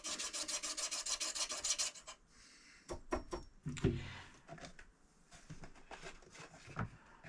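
A wooden rollerball pen blank is sanded through successive grits on a lathe, starting with a steady rasping rub, then breaking into short, quiet bursts of scratchy friction.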